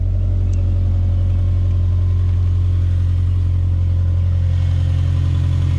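A Subaru car engine idles close by with a loud, steady, low rumbling hum that holds even and unbroken for about six seconds, with no voices.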